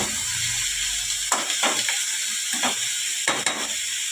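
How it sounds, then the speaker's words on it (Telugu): Soaked moong dal is stirred in a hot pan for an onion curry, a continuous sizzle with several scraping strokes of the spoon at irregular intervals. "ఈ పెసరపప్పుని వేయండి వేసి కొంచెం తిప్పుకోండి"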